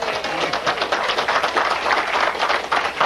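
A studio audience applauds steadily, a dense wash of many hands clapping at close range that holds evenly for a few seconds without pause.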